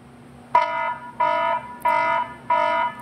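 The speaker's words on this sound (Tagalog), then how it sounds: "Then sa kanyang alarm, ito yung alarm niya." A Tenda CP3 Pro security camera alarm sounds four times in a steady rhythm, each a loud, flat buzzing tone lasting about a third of a second, with nothing else in between.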